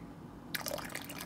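Liquid food color dye is poured into a steaming pot of hot water and yarn, giving a soft, close trickle and drip of liquid that begins abruptly partway through and continues gently to the end.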